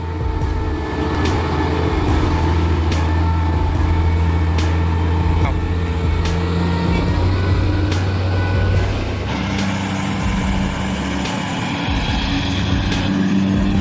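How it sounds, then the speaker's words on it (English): Heavy Scania P410 truck engines drone loudly and steadily on a race track, with deep low rumble throughout, brief shifts in pitch as trucks overtake, and a sharper change near the end. "A dramatic race on the track, where the famous Scania P410 demonstrated its superior power."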